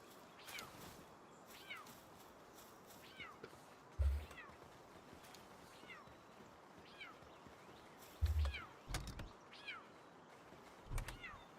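Cat meowing outdoors, several short, faint calls spread across the stretch, with a few louder low thumps in between over a quiet background.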